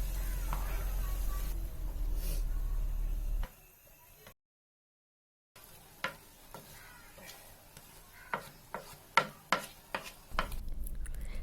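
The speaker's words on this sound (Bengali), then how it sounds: "এখন এই মাংসগুলোকে পোলাওয়ার সাথে খুব ভালোভাবে নেড়ে চেড়ে মিশিয়ে নিচ্ছি" A utensil stirs chicken pieces into pulao rice in a pot. After a brief silent gap come irregular scraping clinks and taps, with a low sizzle beneath.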